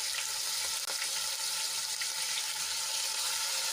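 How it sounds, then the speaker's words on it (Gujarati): Ginger, garlic and chili paste sizzles steadily in a hot pan, a dense continuous frying hiss at even loudness throughout with faint stirring ticks. "આદુ લસણ અને મરચાંની પેસ્ટને આપણે સાંતળી લઈશું"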